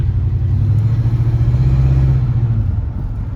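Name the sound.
1968 Ford LTD engine running after carburetor rebuild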